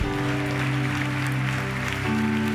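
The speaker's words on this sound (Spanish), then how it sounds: "¿Le puedo dar un aplauso fuerte a Jesús?" Applause from a church congregation for Jesus during a worship service, steady and loud throughout, with sustained organ or keyboard tones playing underneath.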